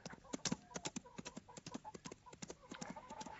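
A horse gallops at speed in a film scene, its rapid rhythmic hoofbeats clattering close and loud throughout, with no voices over them.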